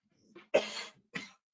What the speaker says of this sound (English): Sorry for coughing here.